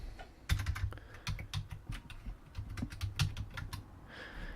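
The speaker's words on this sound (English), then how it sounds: "So I'm just going to type." Steady typing on a computer keyboard, a close run of quick key taps with uneven rhythm and slightly heavier thumps among them, continuing without pause and no voices.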